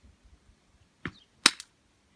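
A BB gun is fired once, held upside down: a sharp snapping crack, followed a moment later by a second louder crack with a brief rattle, both standing out clearly against a quiet background.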